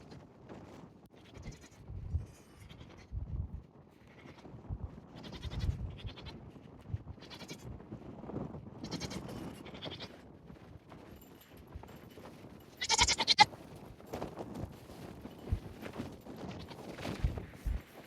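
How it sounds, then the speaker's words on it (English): Goats bleating outdoors on a Wyoming farm during a windstorm, several intermittent calls scattered over steady gusting wind noise, with a few hoof-like knocks nearby. "the goats were hiding in their shed until they saw me coming over here"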